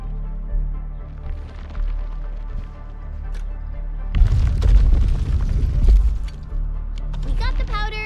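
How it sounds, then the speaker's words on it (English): Machine in Arknights Endfield shredding Originium ore into powder, heard as a loud booming, crunching burst over a game background hum, rising sharply midway and trailing into chiming notes. "I say it's time to shred some Originium ore to powder."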